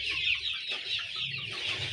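Local chickens cluck steadily and close by, a continuous flock chatter with soft low rustling underneath.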